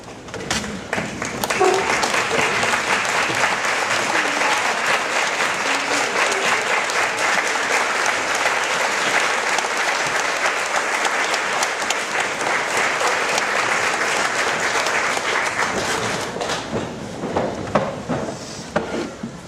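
A large crowd at a memorial gathering applauds standing parents and family members with sustained, loud, even clapping that carries on for nearly twenty seconds before thinning out at the end.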